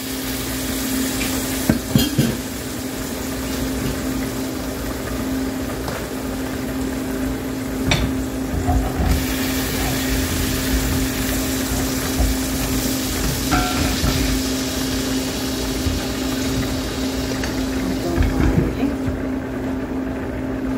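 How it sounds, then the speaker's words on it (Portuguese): Leftover seasoning sauce from chicken fillets goes into a hot pan, giving a steady loud sizzle and frying hiss with occasional stirring scrapes throughout, no talk. "Vou pegar esse molhozinho aqui que sobrou do tempero e vou colocar aqui dentro da panela."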